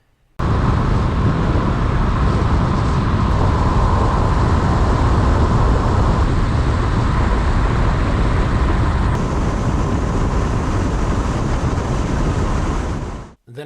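Steady, loud broadband roar of wind buffeting a GoPro Hero 7 Black microphone with the camera turned away from the wind, rumbling continuously for about thirteen seconds with no voices and then cutting off abruptly.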